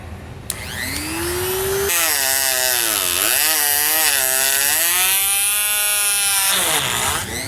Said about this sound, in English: I'm going to use a rotary tool with a plastic cutting blade